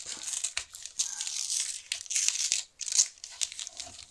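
Someone opens a paper envelope from a scrapbooking Advent calendar, making crisp, close tearing and crinkling bursts in several quick goes, with one sharp rip near the end.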